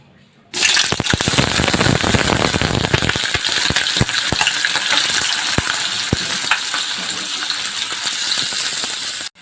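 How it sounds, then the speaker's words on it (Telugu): Fresh goat tripe (boti) drops into hot oil and sets off a sudden loud, dense sizzle with sharp crackles and pops that keeps going close up, with no speech over it. "నూనె మంచిగా గరమైన తర్వాత మనము ఫ్రెష్గా చేసుకున్న బోటిని నూనెలో వేసేసుకుందాం."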